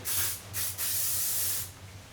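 Lancome Infallible setting spray misted from a pump bottle, a few short hissing bursts followed by one longer spray, close and clear with no speech.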